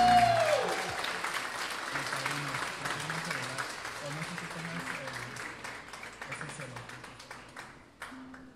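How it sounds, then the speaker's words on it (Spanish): Applause from guests at a quinceañera celebration, starting with a brief tone then settling into a steady, moderately loud crowd clapping that slowly fades toward the end, with some voices underneath. "Ese aplauso para ellas"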